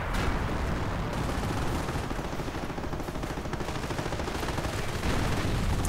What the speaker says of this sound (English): Target for American artillery.